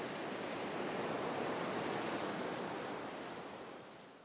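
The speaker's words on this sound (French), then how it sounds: "ce bruit des vagues eh bien, va t'inviter inconsciemment à caler ta respiration sur ce rythme-là" A Withings Aura sleep device plays ocean wave sounds, a soft, even surf wash that swells gently and then slowly fades, with no voices.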